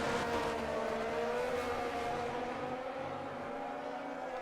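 Formula 1 race cars, an Alpine and a Ferrari, racing in a video game, with a continuous high engine whine holding steady and slowly fading slightly.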